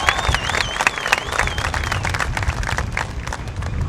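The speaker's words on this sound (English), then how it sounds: "So round of applause for all the drivers, the fans, and everybody" A crowd at a super late model race at Lake Cumberland Speedway applauds with dense, steady clapping and some cheering, heard loud and close throughout a few seconds.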